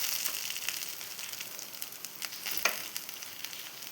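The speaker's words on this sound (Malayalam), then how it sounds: "ഞാൻ ഉള്ളി ഇട്ട് കൊടുക്കുന്നുണ്ട്." Small onions sizzle in a pan for a coconut chutney, with a soft, continuous hiss and scattered light crackles and pops. The sound is close and fairly quiet, and no one speaks.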